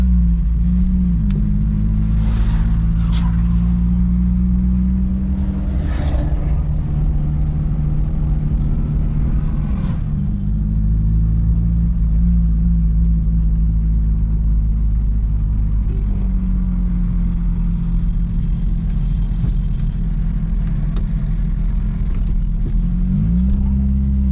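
A car's engine runs steadily after a gear change during a driving lesson, a loud continuous low rumble with slight shifts in pitch and no talk.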